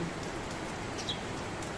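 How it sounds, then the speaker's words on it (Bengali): Heavy morning rain falls steadily in a village setting, a dense, even hiss of drops spread across the whole stretch with no pauses, one faint bird call briefly audible above the wash. "আর দেখতে পারতেছেন সকাল সকাল অনেক বৃষ্টি পড়তেছে"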